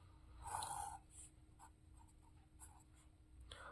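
Pen or pencil scratching out numbers by hand during a maths factorisation, short faint strokes in irregular bursts, close and quiet with no talk over it.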